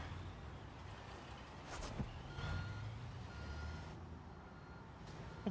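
Truck reversing beeps in the video game Construction Simulator, a faint steady series of repeated electronic beeps over low engine rumble, with no talking.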